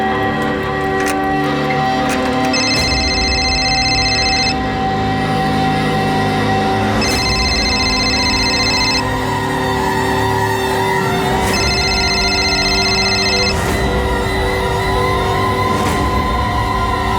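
A phone rings in three evenly spaced bursts, each trilling for about two seconds, over a steady background hum, with nobody picking up.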